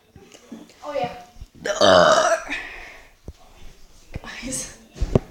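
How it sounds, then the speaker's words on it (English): A loud, drawn-out burp dominates the middle, surrounded by whispered and spoken voices before and after, close to the microphone. "Burping."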